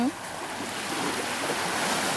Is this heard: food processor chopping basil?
no